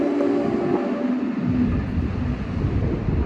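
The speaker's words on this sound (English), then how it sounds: "the train just passed by" A train passes by outdoors, a broad rumbling roar that swells and deepens partway through, mixed with wind buffeting the microphone.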